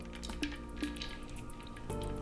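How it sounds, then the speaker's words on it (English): A margarita is poured into a glass over a big ice rock, giving soft liquid splashing with a few light clinks of ice, close and fairly quiet. "And now we're ready for the pour."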